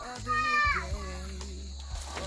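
Young children play and call out nearby at a campsite, their high voices filling a short stretch over steady low background noise.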